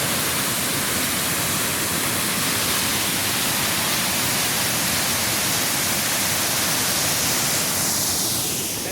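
Sol Duck Falls and the rapids running out below it, a loud unbroken rush of falling and churning water heard up close, steady throughout with no voices.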